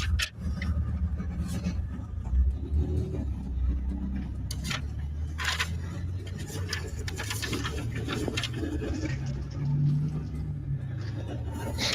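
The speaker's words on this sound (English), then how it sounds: "It's not because of your loud exhaust." A car with a loud exhaust idles nearby during a police traffic stop, a steady low rumble running throughout with faint background sounds over it.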